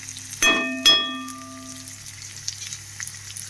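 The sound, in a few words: onions frying in oil while being stirred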